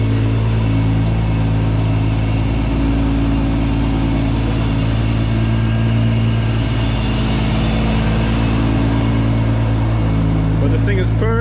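Rebuilt Top Secret Toyota Supra GT300 race car engine idling steadily and smoothly during running-in, a continuous loud low drone with people talking over it.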